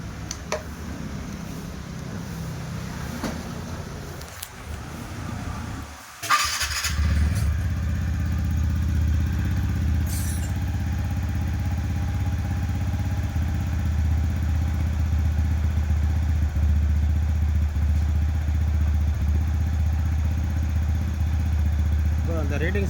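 At a mechanic's workshop, a motorcycle engine clatters and thumps as it catches, then runs at a steady, close idle for a long stretch while people talk over it.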